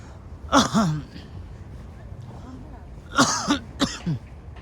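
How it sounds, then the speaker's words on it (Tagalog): A few short coughs close by, two clusters separated by a quiet pause, with faint background noise of a city park in Tashkent, Uzbekistan. "Medyo inuubo ng konti"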